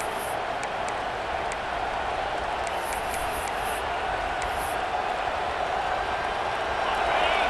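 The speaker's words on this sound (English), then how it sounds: "Listen to this crowd just shaking the girders of this place, trying to help their defense" A dense, steady roar from a packed stadium crowd fills a football video game, swelling slightly at the end, with a commentator talking over it.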